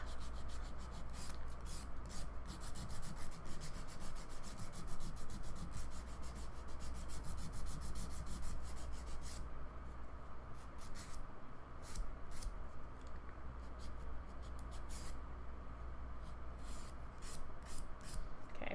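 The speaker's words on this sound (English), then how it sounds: "annoying when you gotta do all that extra buffing too to fix it" Steady rubbing and buffing of a dip-powder manicured fingernail with a buffer, a continuous close scratchy friction that runs throughout with brief pauses, no talking.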